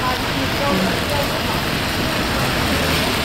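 Rain pours onto a camera in New York, a loud, dense, continuous crackling roar that fills the whole clip with no pauses.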